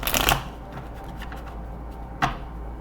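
Tarot cards shuffle in two quick, close riffling bursts, one at the start and one near the end, with quieter handling of the deck between them.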